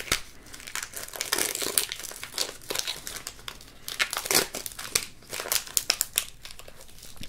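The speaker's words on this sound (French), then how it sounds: "C'est tout ce que je demande quand je déballe des cartes Pokémon." Pokémon card packs from a Silvallié GX Chromatique box are torn open and handled up close, loud crinkly plastic foil crackling and tearing in irregular bursts, with no voices over it.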